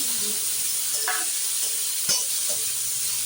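Onions, tomatoes and vegetables being sautéed for sambar, a soft steady sizzle with a few brief stirring scrapes and taps of a spoon against the pan.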